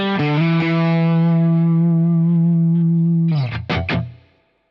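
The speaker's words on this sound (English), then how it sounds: "the Hughes and Kettner Black Spirit 200. It's in the crunch channel right now, but with the gain really low" An electric guitar plays through a Hughes and Kettner Black Spirit 200 amp on its crunch channel with low gain and a little amp reverb, one loud, sustained chord ringing, then a few quick strummed hits fading out.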